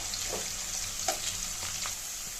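Onion and garlic fry golden in oil for a fish curry, a close, even sizzle with a few soft stirring scrapes and no voices.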